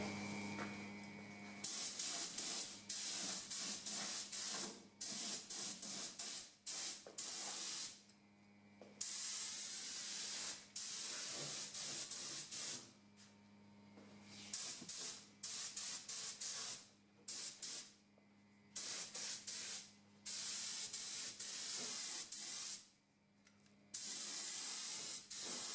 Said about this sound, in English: Alright, first coat of clear.